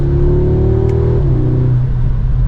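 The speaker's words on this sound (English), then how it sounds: "you can hear that exhaust get a little bit beefier for that turbo 4" A 2023 Audi S3 turbocharged four-cylinder exhaust drones loudly and steadily nearby, its pitch holding then dipping slightly as the engine note shifts, deep and throaty with a low rumble.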